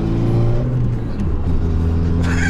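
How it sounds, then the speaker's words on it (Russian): A VAZ 21099 car fitted with an Akrapovic exhaust gives a loud, steady engine drone heard close up while driving. The roar holds without a break, and a brief higher-pitched sound rises near the end. "Такой кайф на ней ехать, вы не представляете. Выхлоп Акрапович."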